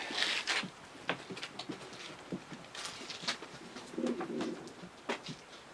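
A breeding pigeon of Meulemans, De Klak and Janssen lines gives a faint, low coo amid scattered scratchy clicks and patter in a quiet loft.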